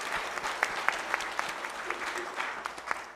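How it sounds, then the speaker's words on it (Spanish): Applause from an audience at a women-in-science talk event, sustained clapping with distinct individual claps standing out, moderately close and continuing throughout. "Un aplauso."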